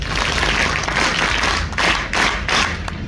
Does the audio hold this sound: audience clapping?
yes